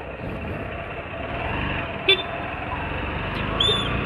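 Brief horn toots from a rider's motorcycle in Indian road traffic near Bhuj, two short honks standing out over steady traffic and engine noise.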